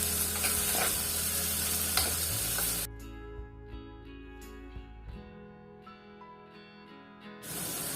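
Finely chopped onions sautéing for a chicken stew, a steady sizzle for a few seconds, then a quieter stretch with a faint hum and light stirring before the sizzle returns.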